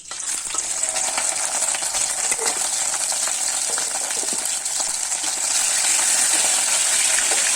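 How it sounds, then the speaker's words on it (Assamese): Three fish pieces frying in hot mustard oil give a loud, steady crackling sizzle with faint clicks of movement in the pan, lasting throughout and swelling slightly near the end. "এতিয়া ইয়াতে দি দিম আমি মাছখিনি"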